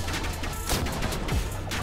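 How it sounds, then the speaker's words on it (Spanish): Mortar explosions from the video game Tower Defense Simulator come as a rapid cluster of sharp blasts and crashes over a dense game soundscape, with no voices during it. "con las explosiones."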